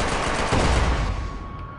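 Dense automatic gunfire from the video game Max Payne 3 rattles continuously and loudly, a sustained burst of rapid shots with no talk over it.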